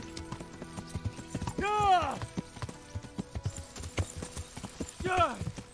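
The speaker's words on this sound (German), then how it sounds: "Vollgas, Galopp. Nicht mehr Trab." Horse hooves clip-clop in a steady galloping rhythm in the video game Kingdom Come: Deliverance, with whinnies breaking in twice and someone talking over it.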